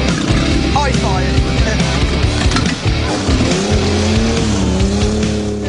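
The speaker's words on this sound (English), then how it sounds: "Steve and his team are getting on down to the roar of their V6" A V6 engine in a converted milk float roars loudly and continuously, revving and rising in pitch, close up, with tire squeal and voices partly buried beneath.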